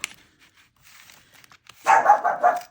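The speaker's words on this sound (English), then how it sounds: "he's barking to an imaginary thing in the garden" A dog barks several times in a quick burst after a near-silent stretch, the barks loud and close, indoors looking toward a garden.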